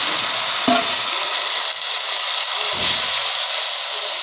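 Water poured into a pan of sizzling jute greens, with a sharp hiss and bubbling, then a few soft stirring knocks beneath a steady frying crackle.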